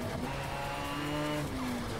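A Mitsubishi Lancer Evo IX engine screams at high revs in the racing game Need for Speed Shift 2: Unleashed, a continuous loud drone with rising tones that briefly dip as if through a gear change, no speech.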